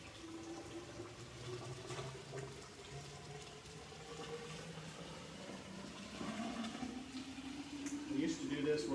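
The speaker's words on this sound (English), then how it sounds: "Got some boiling water right off the stove." Boiling water straight off the stove is poured over a rusted gun barrel, making a faint, continuous splashing trickle with a voice present in the background.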